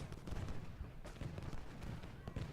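Booming artillery fire from a Civil War battery in the strategy game Ultimate General: Gettysburg, a dense, continuous rumble of distant cannon blasts with sharper reports breaking through at irregular moments.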